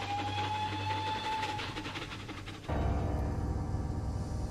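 Train running in the horror game Last Day of Lazarus, a steady rumbling rail roll with a sustained tone that gives way to a heavier, louder low rumble partway through, with no talking.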